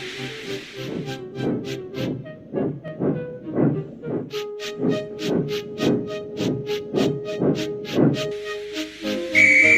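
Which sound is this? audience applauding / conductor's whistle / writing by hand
conductor's whistle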